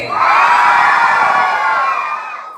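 A large crowd at a church gathering lets out one loud, sustained roar of shouting and cheering that swells quickly and fades out over about two seconds.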